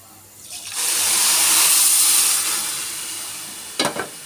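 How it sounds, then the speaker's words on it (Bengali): Water is poured into a pot of rice already fried for pulao, giving a loud rushing sizzle that swells over about two seconds, fades, and ends with a couple of short clatters. "চালটা ভাজা শেষ এখন আমি পানি দিয়ে দিচ্ছি"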